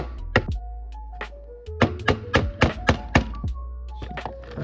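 Sharp metallic thunks ring out as a hammer drives a screwdriver against a part while replacing VVT solenoids and gaskets on a 2014 Ford Focus SE, a few isolated hits then a quick run of about seven close, loud strikes.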